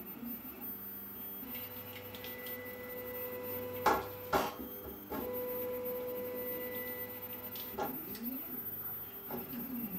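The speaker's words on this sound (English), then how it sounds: "This is the new Tevo little monster that I built from a kit form, doing auto calibration" A Tevo Little Monster 3D printer, built from a kit, runs its auto calibration routine with quiet stepper motor whines and hums, some shifting pitch, plus a couple of sharp taps near the middle, all fairly faint and close.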